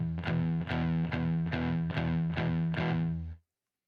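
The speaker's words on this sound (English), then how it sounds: "Rock, metal, and punk guitarists use power chords because they create a low, powerful, chunky sound like this." A distorted electric guitar strums a low power chord six times in an even rhythm, loud and close, ringing heavy and chunky before cutting off abruptly.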